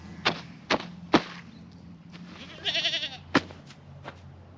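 Goats on a farm bleat briefly, with a single wavering call in the middle, set among a few sharp knocks and thumps against a quiet outdoor background.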